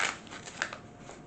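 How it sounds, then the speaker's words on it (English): A fruit bar wrapper is torn open by hand, giving a brief, close crinkling rustle with a couple of sharper crackles. "I'll open a fruit bar."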